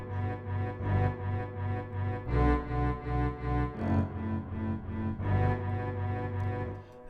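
An orchestral bass line played low with chords voiced a tenth above it, sustained harmonies moving in a steady pulsing rhythm, full and resonant with no talking.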